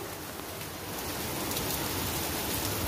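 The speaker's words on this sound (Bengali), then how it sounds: "এই প্রচণ্ড বৃষ্টি হচ্ছে" Heavy rain pours down in a steady, dense hiss that stays loud and even throughout, with no voices.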